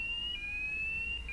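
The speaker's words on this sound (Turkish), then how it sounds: "ilk adım alarmı çalıştırmak veya en yakın itfaiye alarmını aktif hale getirmektir" A fire alarm sounds during a fire drill, a steady high electronic tone held without a break at moderate loudness over a faint low background hum.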